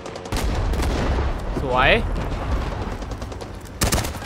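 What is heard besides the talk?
gunfire in a Vietnam War shooting video game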